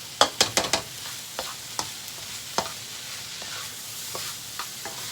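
Onions and peppers frying in a pan for a salt and pepper blue claw crab dish: a soft steady sizzle under a cluster of close utensil stirring clicks and scrapes, then occasional stirs.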